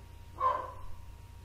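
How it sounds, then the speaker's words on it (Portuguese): A dog barks once in the background, faint and distant, a short muffled bark over a low steady hum in an indoor room. "E tem um cachorro latindo ao fundo."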